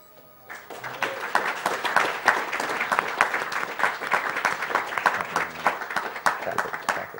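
A crowd at a speedrunning charity marathon applauds the behind-the-scenes staff, a sustained, fairly loud burst of clapping that starts suddenly and keeps going with sharp individual claps standing out, little talk underneath.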